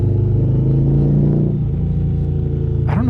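An Indian Challenger Limited motorcycle with what may be its stock exhaust rumbles close and loud, a deep throaty engine revving then settling back toward idle.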